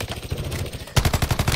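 Black Ops 6 gunfire crackles in quick repeated shots, a softer distant burst followed by a louder, closer rapid volley.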